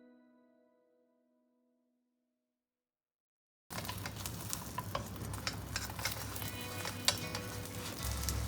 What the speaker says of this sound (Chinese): 再来我们来煎蛋，做那种有一点类似蛋包饭的感觉。